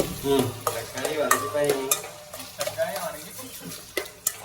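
Tomatoes sautéing in a pan, stirred with quick scraping strokes and a few sharp taps over sizzling, with someone talking briefly at the start.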